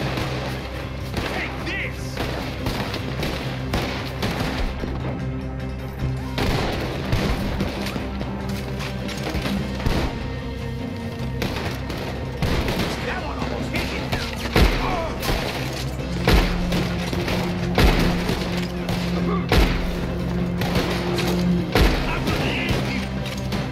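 Repeated gunfire and heavy booms in Red Dead Redemption 2, loud and continuous, with shots and thuds layered through a dense, busy game soundscape.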